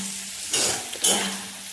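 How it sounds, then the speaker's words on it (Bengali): Food fries in a pan on the stove while it is stirred continuously, a steady low sizzle broken by two sharp scraping bursts of the spatula partway through; no one speaks. "এটা কন্টিনিউ নাড়তে থাকতে হচ্ছে, না তবে ফাটবে"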